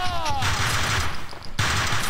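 Gunfire in the video game Max Payne 2, a dense rattle of shots and crashes filling the short burst, loud and close, with a sharp cut and a fresh volley near the end.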